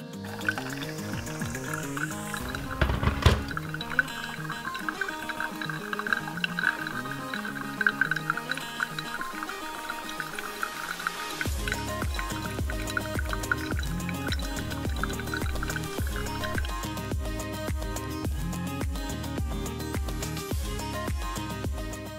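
Boiling water pours steadily in a circular motion over coffee grounds with soft splashing and dripping, close by, the stream continuing and gurgling as the level rises.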